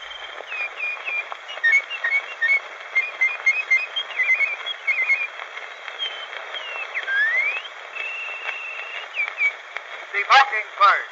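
Artistic whistling of The Mockingbird by John York Ashley, an early Columbia Phonograph Company recording from Washington, D.C., with warbling, birdlike trills and slides over steady surface hiss, ending in a few sharp chirps.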